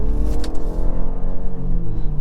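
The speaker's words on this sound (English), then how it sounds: "You see the engine will kick in once your foot does go over a certain amount" A 2023 BMW 530e rear-wheel-drive plug-in hybrid sedan with its petrol engine starting up under throttle, producing a steady low engine drone with a brief rise in pitch, heard from inside the cabin.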